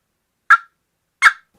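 Two sharp, short turkey clucks struck on a hunting box call, spaced about three quarters of a second apart, crisp and close with silence around them.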